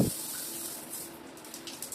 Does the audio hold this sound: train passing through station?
no